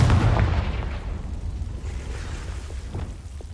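A Confringo blast spell in Hogwarts Legacy on PS5 goes off as a loud, deep boom at the very start, then its rumbling tail fades gradually over a few seconds.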